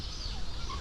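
Brief, fowl-like bird calls, clucking or gobbling, sound over a faint background murmur in a very short snippet, in a village in Malta.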